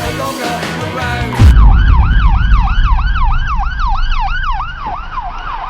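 An ambulance speeding with its siren wailing, a loud close rising-and-falling electronic wail repeating steadily over road rumble, after a brief burst of music at the start.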